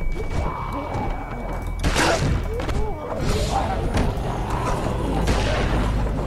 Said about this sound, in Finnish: No niin, mä ammun kiväksä.